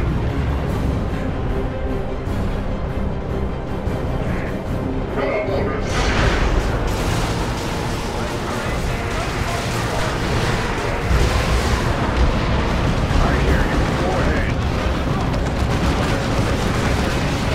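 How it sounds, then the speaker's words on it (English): A dense, sustained barrage of rocket explosions from Space Marine Manticore batteries in Dawn of War II: Retribution rumbles loud and continuous, booms piling over a heavy battlefield din, with voices talking over it. "Manticle batteries, vengeance and justice, crush them beneath your rockets!"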